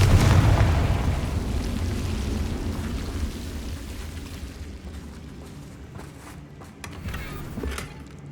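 Spell explosion from the Confringo fire curse in Hogwarts Legacy, a loud booming blast at the start with a heavy low rumble that slowly fades, followed by softer crackling impacts.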